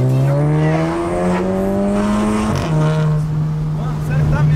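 An Audi TT's engine revs up loud and close, its pitch climbing steadily, then dropping sharply at a gear change before holding steady again. A voice speaks over it.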